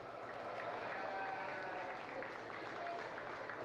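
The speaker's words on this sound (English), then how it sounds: "Give them a good round of applause." Steady applause for the class winners in a county fair livestock show arena, a continuous wash of clapping from a distant crowd, fairly faint and unbroken.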